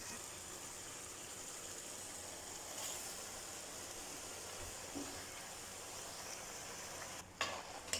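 Chopped spinach goes into beef sizzling in a cooking pot, giving a faint, steady frying hiss with a few soft clatters and a brief rustle near the end.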